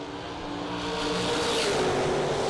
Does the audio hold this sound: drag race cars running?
yes